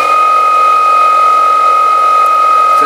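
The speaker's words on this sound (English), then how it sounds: "Okay, now I've wired up me blower. I'll just quickly plug it in." An electric air blower for a homemade waste oil burner runs at a steady, loud, close whine with a constant tonal hum and no change in pitch.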